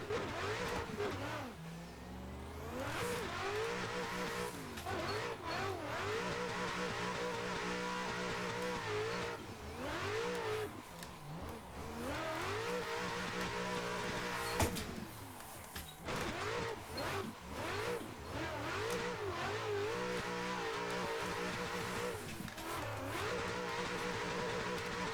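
A car drifts around Sturup Raceway in Assetto Corsa, its engine revving up and down in repeated rising sweeps with bursts of tire squeal, loud and continuous through the run.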